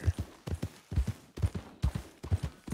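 Horse hooves clip-clopping in Red Dead Redemption 2, a steady rhythmic trot of paired thuds repeating about twice per second, close and fairly loud with no talk.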